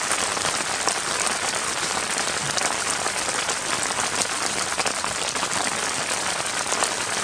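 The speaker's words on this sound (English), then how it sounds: "the rain's coming" Heavy rain pours continuously at a mountain campsite, a loud, even patter of drops close by with no voices or pauses.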